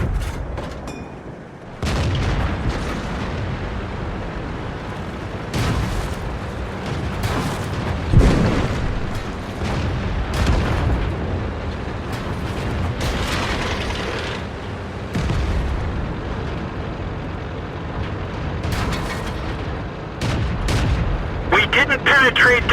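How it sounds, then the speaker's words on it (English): Tank shell hits and explosions in World of Tanks, repeated booming cannon blasts and impacts spaced across the stretch, heard under ongoing talk with background battle rumble. "he exploded when I hit him"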